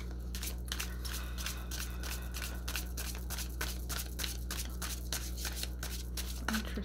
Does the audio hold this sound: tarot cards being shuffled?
yes